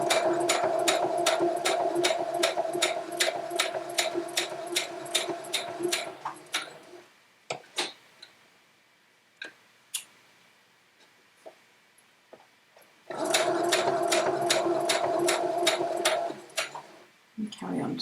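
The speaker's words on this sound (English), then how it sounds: "keep to your seam allowance, and sew up to the first pin." Domestic sewing machine running steadily while stitching a quilt seam, two bursts of fast even stitching separated by a quiet pause with small clicks and handling noises, close and moderately loud with no talking.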